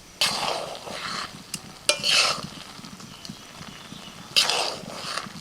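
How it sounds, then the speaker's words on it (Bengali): Orange chicken being stirred with chopped spring onion, coriander and lime juice, giving scraping, clattering stirs in bursts over a faint background sizzle. "কিছুটা পেঁয়াজ পাতা কুচি পাতিলেবু রস এবার ভালোভাবে মিশিয়ে দেবে"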